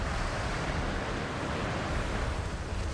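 Wind roars steadily in the Tomb Raider video game, a continuous broad rushing with no pauses and no voices.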